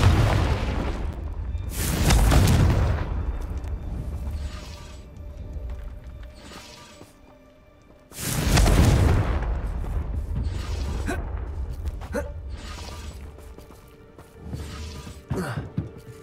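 Two heavy explosive blasts about six seconds apart, each a loud broadband burst with a rumbling tail, from the Confringo blasting spell in the Hogwarts Legacy video game, with quieter game ambience and faint mechanical clicks between them.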